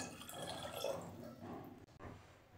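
Water pours and trickles into buttermilk, soft and close, with a brief splashing gurgle before it tapers off; no talking.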